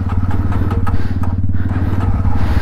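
A motorcycle engine fires up after standing parked and settles into a loud, close, steady idle with an even rapid pulse, and no talk over it.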